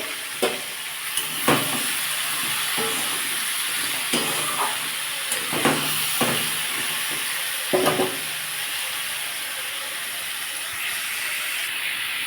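Potatoes with turmeric and salt fry in a hot pan with a steady broadband sizzle, broken by several short scraping stirs and clinks near the mic.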